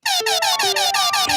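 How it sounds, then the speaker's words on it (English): Air horn sound effect blasting in a rapid series of loud pulsing honks that are close and steady, alone with no talk. "since we're having a little fun for Moltmann, he gets the air horn."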